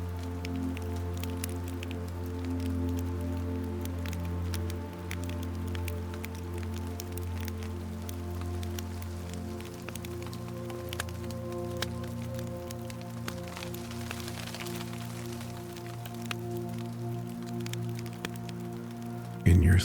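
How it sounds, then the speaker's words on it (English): Rain falls on a house in the forest, a gentle wash of drops beneath a low, sustained droning hum that stays steady throughout, with a brief louder bump at the very end. "the rain keeps falling"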